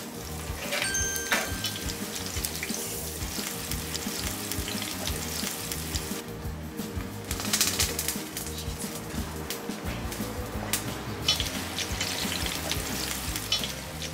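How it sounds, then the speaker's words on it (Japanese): Thick-sliced vegetables for moussaka shallow-frying in oil, giving a loud, continuous crackling sizzle that runs steadily throughout with occasional brief swells. "思い出の厚さに切った具材を揚げ焼きにしていきます。"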